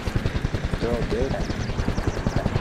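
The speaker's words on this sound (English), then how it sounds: "it's a broken helicopter making that sound." A broken helicopter in the video game Arma Reforger makes a rapid, steady thumping rotor drone with a rough, sputtering edge throughout, loud and close, with talking mixed in.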